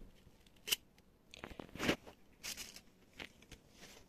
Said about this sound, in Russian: Это садовыми ножницами работаю. Они не так хорошо режут.